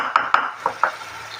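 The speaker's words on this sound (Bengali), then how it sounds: "এখন কষিয়ে নেবো কিছুক্ষণ" Greens (Malabar spinach) are stirred in a pan with salt and green chillies, giving four bright clanks of a metal spoon against the cookware at close range over a faint background, with no talk.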